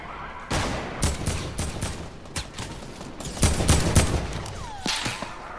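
Gunshots in the Fortnite video game crack out in rapid bursts and single shots, sharp and close, spread across the whole stretch with short gaps between them.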